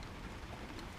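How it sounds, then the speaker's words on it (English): Steady outdoor rain hisses evenly over British weather with a faint patter on surfaces, soft and continuous for about a second. "Typically it started raining"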